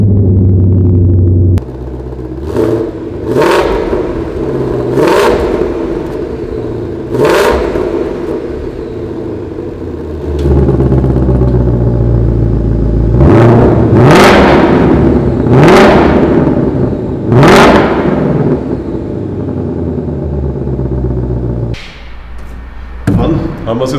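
A 2020 Ford Mustang Shelby GT500 fires up with a deep rumble, then a series of loud, sharp revs rising and falling, several close together, with an idling burble between blips and brief talk near the start.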